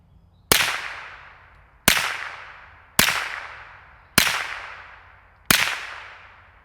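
A suppressed Retay RXP22 fires CCI Stinger rounds: five sharp, close cracks at fairly even intervals of just over a second, each dying away quickly, with near silence between shots.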